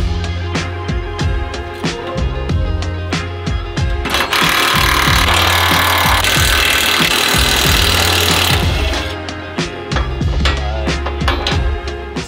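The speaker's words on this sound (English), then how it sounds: "This is why I own a mid-size 3/8 ratchet. Breaks things loose so easily." A 3/8-inch ratchet works on bolts on a Ford Focus RS, giving loud rapid clicking bursts with heavy clunks, plus a sustained noisy rushing section in the middle before the clicking resumes.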